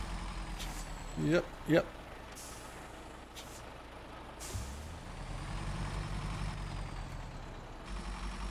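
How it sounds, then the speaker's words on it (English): In the SnowRunner game, a truck reverses toward a trailer, its engine droning low with two sharp air-brake hisses early on, while someone talks briefly over it. "I just have to reverse into the trailer"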